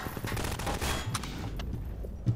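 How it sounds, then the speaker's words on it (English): Rapid bursts of gunfire from the Half-Life 2 video game, dense and continuous with overlapping shots, plus one sharper close report near the end. "Who's shooting at me?"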